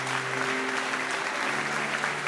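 A church congregation claps and cheers for Jesus in a continuous, dense wash of applause, steady and fairly loud, with a held sung or shouted tone running underneath.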